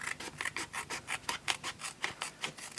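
Card stock being trimmed for a handmade Christmas card, giving a steady run of short rasping cuts at a brisk, even rhythm, close and fairly quiet with no talking.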